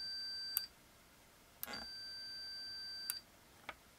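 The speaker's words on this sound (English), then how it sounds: "these leads just go over to a meter in continuity mode. I'm just going to press the micro switch." A multimeter in continuity mode gives a high, clean electronic beep each time a small micro switch in a mechanical light timer is pressed, with short chirps and one sustained tone of about a second and a half in a quiet room, alongside soft clicks.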